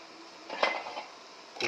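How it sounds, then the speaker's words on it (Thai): A spoon scrapes and knocks against a bowl while stirring dried fish chili paste with fish sauce and MSG, a few soft close clinks with a light scraping texture between them. "เราคนให้เข้ากันครับ"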